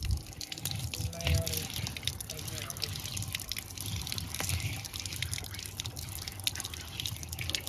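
Water splashes and drips while a tractor tyre is being washed outdoors, an uneven patter of liquid against rubber heard under people talking nearby.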